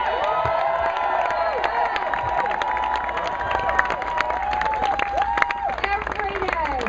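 A crowd at a night campaign rally in Orlando, Florida cheers and applauds continuously, with dense clapping, whoops and shouting voices filling the whole stretch at close, loud range.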